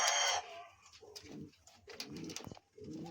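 King pigeons coo nearby in low, throaty repeated phrases, a few soft bursts spaced across a couple of seconds with brief quiet between.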